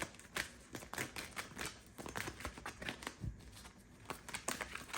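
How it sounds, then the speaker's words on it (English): Tarot cards being shuffled by hand produce quiet, quick papery riffles and flicks in irregular bursts, close and soft with no talking. "So I just need to get the card shuffled."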